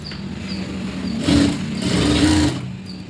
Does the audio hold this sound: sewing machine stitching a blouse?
yes